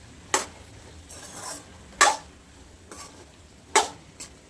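A spoon scrapes through spiced potatoes and peas in a pan in three distinct strokes with softer scrapes between them, a quiet sizzle faintly underneath.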